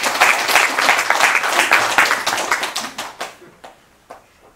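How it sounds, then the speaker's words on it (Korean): An audience at a Korean Buddhist dharma talk breaks into loud, dense applause that holds for about three seconds, then thins into scattered, fading claps. "그럼 박수 한번 치면 안 됩니까?"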